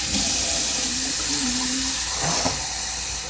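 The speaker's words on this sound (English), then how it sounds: "you want to put hot water into this" Hot water from a tap pouring steadily into a cooking pot, a continuous close hissing splash with a few faint tonal squeaks, no talk.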